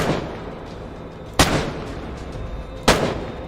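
Gunshots in the video game Insomnia: The Ark, two sharp loud reports about a second and a half apart, each with a short decaying tail over a steady background rumble.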